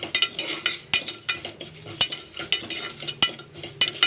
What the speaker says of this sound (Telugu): ముందుగా పప్పు వేసుకొని పప్పును వేయించుకొని